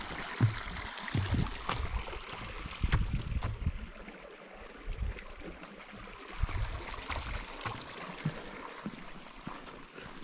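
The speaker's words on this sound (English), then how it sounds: "Oh, this is a cool creek I liked." A creek on the Pacific Crest Trail near Chinook Pass washes steadily over rocks, a broad rushing flow with occasional low gurgles and splashes heard close by.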